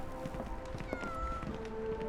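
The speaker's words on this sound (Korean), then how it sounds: "냥 소리 들었는데?" A cat meows in the video game Sherlock Holmes The Awakened, a short faint call set against a steady game background of ambience and music.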